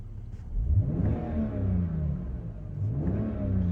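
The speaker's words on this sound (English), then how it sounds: "I'll give it a very quick rev for you." A 2007 BMW 325i E92 coupe's 3.0 six-cylinder petrol engine revs up quickly, its pitch climbing then falling back, with a second shorter rev near the end, close and steady.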